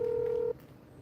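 A single steady telephone tone holds for half a second and then cuts off abruptly, leaving faint line hiss while a call is redialed.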